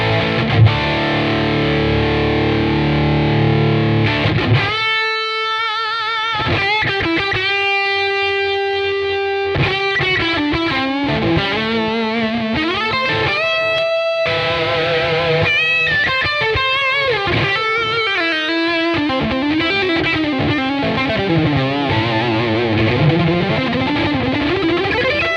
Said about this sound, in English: Really trying to go for that nice, creamy, smooth overdrive here.